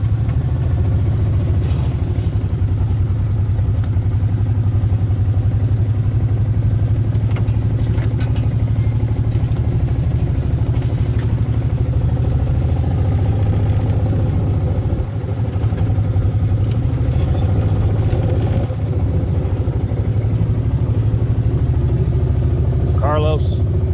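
A Mule utility vehicle runs along a farm road on a 52-acre Missouri Ozarks property, its engine droning loud and steady with low rumble and rattling, while people talk over it.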